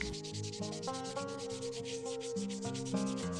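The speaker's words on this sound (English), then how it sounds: "180 grit makes quick work of the metal" 180 grit sandpaper steadily scuffs metal mounting parts for a Bronco before painting, making a continuous rhythmic rasp of quick strokes close up, with a faint tonal hum beneath.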